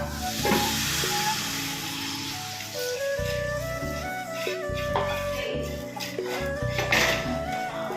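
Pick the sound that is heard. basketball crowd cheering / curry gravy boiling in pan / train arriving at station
curry gravy boiling in pan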